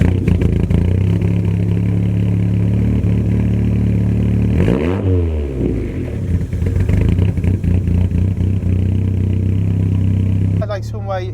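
A 650bhp TurboSystems Ford Sapphire Cosworth engine drones loudly while driving, with a sweeping rev change midway and a steady powerful note throughout, heard close from inside the car.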